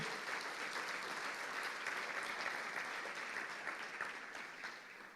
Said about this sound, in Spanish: Eso merece un aplauso, aleluya.